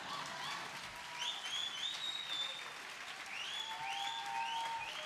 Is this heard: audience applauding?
yes